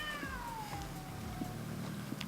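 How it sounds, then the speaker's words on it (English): Outdoors during a neighborhood power brownout, a cat lets out a long, falling yowl against steady street noise, like the drawn-out cry of cats squaring off before a fight. "we're getting into a cat fight"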